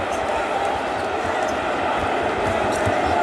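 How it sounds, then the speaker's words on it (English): Dense crowd murmur fills an NBA basketball arena, the Lakers' LeBron James having just dunked over Kobe Bryant, with a steady roar of many voices and faint sharp bounces and squeaks scattered underneath. "the crowd talking amongst themselves"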